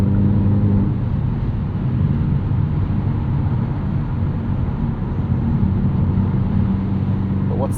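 A 2024 Hyundai Elantra N with a 6-speed manual cruises in sixth gear, heard from inside as a steady, loud, unbroken drone of engine and road noise with no rise or fall.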